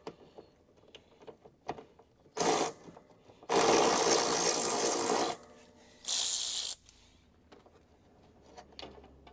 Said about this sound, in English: the electric ratchet to quickly liberate the bolts from the car